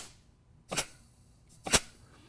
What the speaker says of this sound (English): You can hear the thud inside the transmission there